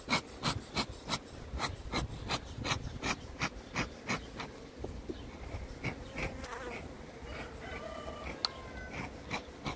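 Honey bees swarm around an opened hive as it is smoked while raw spring honeycomb is being handled, giving a steady buzzing drone with repeated soft knocks and rubbing of frames close by.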